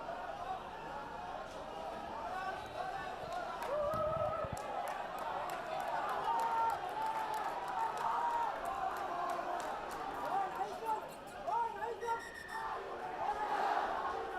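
At a schools rugby semi-final, rival crowd sections chant back and forth in a steady, far-off roar that lasts the whole stretch, with commentary voices running over it.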